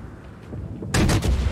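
Naval guns of a Cleveland cruiser (Tier 8) fire in World of Warships: after a quiet, low rumbling stretch, a loud, sudden broadband salvo of booms erupts and keeps going close up for the rest of the moment.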